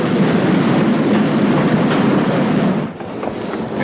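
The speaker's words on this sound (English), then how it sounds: "The train now standing at platform 7 is the express for London" Express train at a railway station platform, a steady loud rumble of wheels and carriages throughout, easing slightly near the end.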